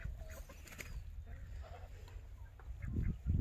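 Chickens on farm grass in spring, alongside turkeys and ducks, giving scattered soft clucks and fowl calls amid outdoor ambience, with a louder low rumble near the end.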